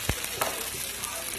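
Gnocchi that have taken on a little water sizzle steadily in a frying pan, a soft continuous crackle with a couple of brief louder pops near the start.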